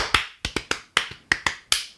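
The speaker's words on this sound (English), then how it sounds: "Stop clapping." Around eight sharp, close claps in an uneven rhythm, each a crisp smack with quick decay and short pauses between.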